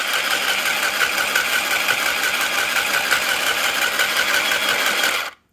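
A Singer Stitch Quick+ handheld sewing machine runs in desktop mode with a loud, steady close-up motor whir and rapid stitching buzz, holding constant for about five seconds before cutting off abruptly.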